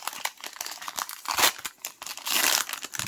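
A foil wrapper on a Pokémon-style trading card pack being pried and torn open up close, loud irregular crinkling and ripping bursts with no talking.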